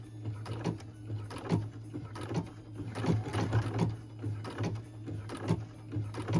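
A home embroidery machine stitches the small eye of an angel Christmas ornament, a rapid, even run of soft mechanical ticks over a steady low motor hum.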